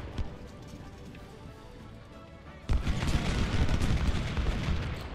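Troops open fire in Ultimate General: Civil War, a sudden dense burst of musket volleys kicking in midway and continuing as a loud, crackling barrage after a quieter stretch of battlefield ambience.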